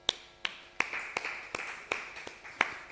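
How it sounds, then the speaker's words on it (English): Sparse, slow hand claps at a devotional gathering, about eight distinct claps spaced roughly evenly, each ringing briefly in a reverberant room, fairly quiet with no talking. "let's give them a clap."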